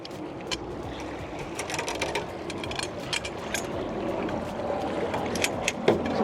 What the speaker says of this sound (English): they just drop into these sockets